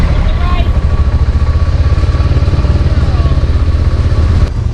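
Motorcycles ridden on an overland trip rumble loudly and close with a steady engine drone and rattle, as if recorded from the bike while riding through town.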